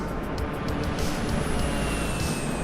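Simulated aircraft flyby in Microsoft Flight Simulator 2020, a steady broadband engine roar that holds loud and constant throughout with a faint high whine above it, no voices.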